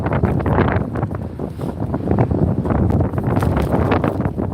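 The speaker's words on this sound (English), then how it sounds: "It's a little bit too windy." Strong wind buffeting the microphone, a continuous loud rumbling roar with gusty surges and no talking.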